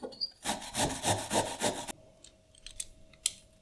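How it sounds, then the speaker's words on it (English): Potato and onion grated on a cheese grater, a run of rhythmic rasping strokes, close and fairly loud, then a pause with a few light clicks and knocks. "I'm just simply grating it with a cheese grater, and I'm doing the same thing with the onion"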